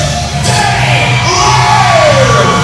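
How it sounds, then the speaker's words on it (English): A wrestling crowd cheers and yells loudly and without a break, with shouts and whoops rising over a dense roar of voices. "listen to that crowd"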